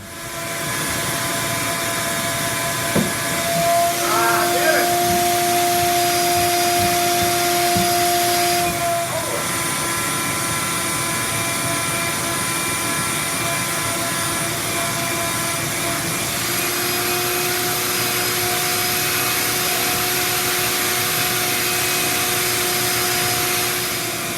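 A vacuum forming machine runs with a steady, loud roar, droning motor hum and hiss throughout, its tone shifting partway through.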